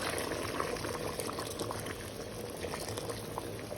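Boiling water pours into a pot of plov, a continuous bubbling, hissing rush of liquid at close range that holds steady for a few seconds with no voices over it.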